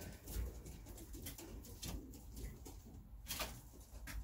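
Pigeons coo softly and steadily from nearby in a loft, with light rustling and fluttering in the background.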